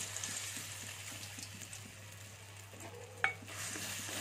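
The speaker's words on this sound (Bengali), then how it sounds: "এটা একটু আমি নেড়ে চেড়ে নিচ্ছি তেলের উপরে" Mashed green peas stirred in hot oil in a pan: a soft, steady sizzle with a quiet rhythmic scraping of stirring, and one sharp utensil clink near the end.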